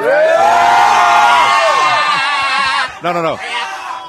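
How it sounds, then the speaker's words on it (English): Band members whoop and cheer together at the side of a concert stage amid a crowd of fans, a loud, continuous burst of voices that trails off near the end. "No, that's not the way it works, guys. You don't cheer for yourselves."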